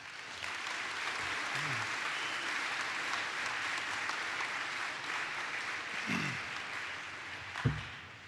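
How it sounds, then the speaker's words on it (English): A large crowd at a high school graduation ceremony applauds steadily for several seconds. The applause is a dense, even wash of distant clapping with a few faint low sounds mixed in. "Please give this group of educators a round of applause."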